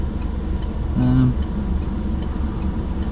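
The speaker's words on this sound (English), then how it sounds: "this traffic is nuts today" Road traffic passing close by, a loud steady rumble of car engines and tyres with a brief tonal horn-like swell in the middle.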